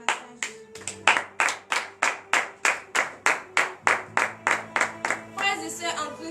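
Congregation clapping in acclamation to Jesus during a Friday morning prayer service in Comè, Benin: a steady, loud rhythmic beat of about twenty claps, with brief singing or voices at the end.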